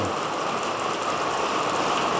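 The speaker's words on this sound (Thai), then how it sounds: "ฝนตกดีขนาดครับ" Steady rain pours down at a rural farmhouse in Thailand, a dense, even hiss of drops striking surfaces that fills the whole stretch without pause and with no voices.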